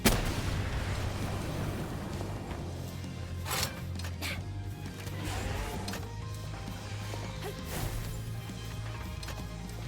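Gunfire in the video game Palworld, with dense, rapid booming shots and crashing impacts layered over a steady game soundtrack, loud and continuous throughout.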